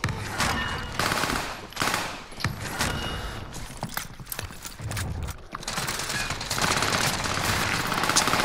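Dense gunfire in Call of Duty: Modern Warfare, with bursts of automatic weapon fire rattling almost continuously throughout, loud and busy, mixed with game clatter and mechanical noise.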